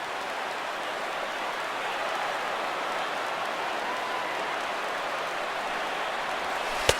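A crowd of about 25,000 at a baseball stadium in MLB The Show 16 cheers and applauds in a dense, steady roar, broad and even from start to finish, with a brief sharp crack right at the end.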